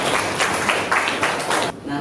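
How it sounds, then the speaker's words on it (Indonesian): Students in a sixth-grade classroom applaud all the groups, a brief burst of brisk, fairly loud clapping that stops abruptly, with a few voices afterward. "beri tepuk tangan untuk semua kelompok"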